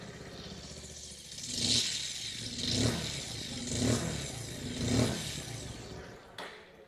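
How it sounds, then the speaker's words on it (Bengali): Bajaj Pulsar 150 motorcycle exhaust, four rhythmic throttle blips rising and falling over a steady idle, close and fairly loud, cutting off abruptly near the end. "চলুন এর এক্সস্ট সাউন্ড শুনে নেওয়া যাক।"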